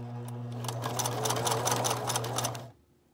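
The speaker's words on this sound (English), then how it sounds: "So we're just going to match this up, put our presser foot down and start zigzagging." A sewing machine zigzag-stitching through neckties for a tie dress, a steady close mechanical whir with rapid needle ticking that runs for a few seconds, then stops abruptly.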